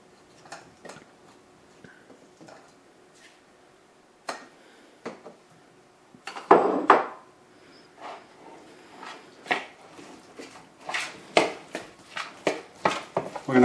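Tuna cake ingredients with green onion and Parmesan are stirred together in a bowl, producing a rhythmic run of close clicks and scrapes that grows louder and quicker toward the end.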